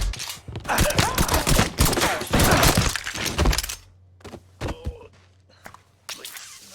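Gunfire in Mafia 3 crackles in rapid, loud volleys mixed with shattering glass, then thins out into a few scattered individual shots over a low hum.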